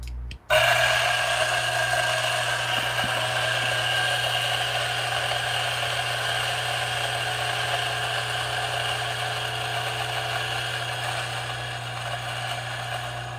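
Coffee grinder grinding espresso beans, starting abruptly and running as a loud, steady whirring drone with a low hum beneath it for the full thirteen seconds.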